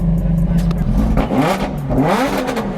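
Several supercars, a Mercedes SLR, Maserati MC20, Lamborghini SV and Huracan, rev loudly close by, engine pitch rising and falling in repeated surges over a steady rumble, with a voice speaking briefly.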